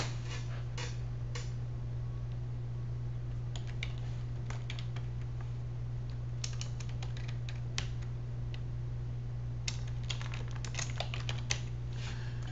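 Typing on a computer keyboard while entering a name for a contact list, with irregular bursts of light key clicks over a steady low hum and no talking.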